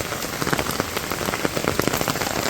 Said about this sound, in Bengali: বৃষ্টি এখানে কমে গেছে